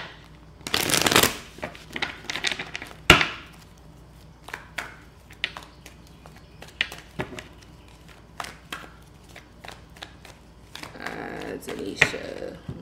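Tarot cards shuffled and handled close up, a dense riffle burst early, then scattered light snaps, slaps and flicks of the deck at an uneven rhythm, with a louder single slap near the middle.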